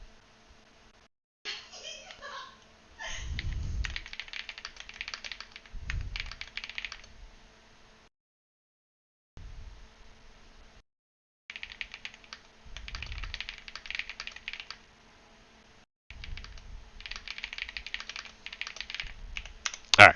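Bursts of clicking computer-keyboard typing, close and fairly quiet, come in several runs separated by short pauses, with faint low thumps between them.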